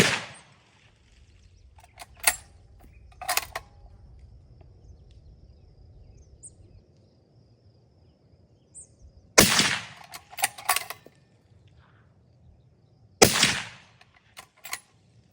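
Three loud suppressed rifle shots from a rifle fitted with a Silencer Co Omega 300 suppressor and a 3-port muzzle brake, fired outdoors at a range, with sharp reports spaced seconds apart over faint background hum.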